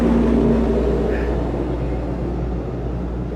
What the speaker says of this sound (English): I've got a big truck here coming past me, so I'll wait for it to pass before we go